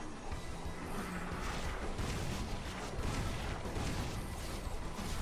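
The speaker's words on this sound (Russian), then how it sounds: "это его выстрелы водой" Dense, continuous bursts of watery blasting and crashing effects from a boss firing water shots in the game Magicraft, loud and steady throughout with no pauses.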